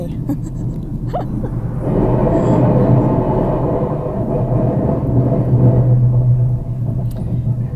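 A low, steady rumble swells and holds for several seconds as a train rolls past at moderate distance, then slowly eases off.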